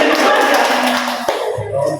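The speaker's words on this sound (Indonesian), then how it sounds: "tepuk tangan untuk semuanya" A small counselling group claps hands together in a short burst, dense and close, with a voice starting to speak as the clapping fades near the end.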